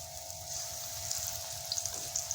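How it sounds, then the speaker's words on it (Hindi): Pakoras sizzle steadily in hot oil for a Kadhi Pakora dish, a continuous faint hiss with small pops and crackles, near and alone with no talking. "ये देखिए ऑयल गर्म हो गया है, मैं इसके अंदर पकौड़े डाल दूँगी।"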